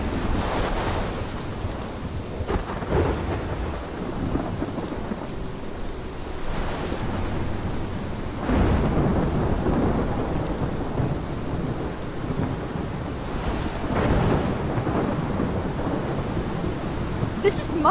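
Thunderstorm with heavy rain in the video game Life is Strange, a constant loud downpour with several deep rolling thunder rumbles swelling and fading at intervals, no voices.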